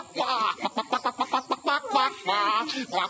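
Rapid, rhythmic clucking and cackling from a rooster, a run of short bursts close by, rising into a longer drawn-out call near the end.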